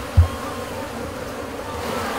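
Honeybees buzz in a continuous, close hum around a beehive honey frame, with a brief bump at the start and no talking.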